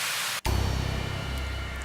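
An ambient sample swells in after a brief silent gap: a steady, soft, hiss-like wash of noise that pulses gently and carries on evenly to the end.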